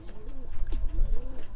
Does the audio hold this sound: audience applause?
no